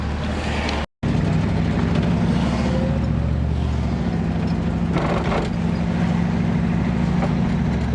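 A 1967 Buick Riviera cruising at steady speed, its engine a low, constant drone with road and wind rumble from inside the cabin, briefly cut once, with no talk.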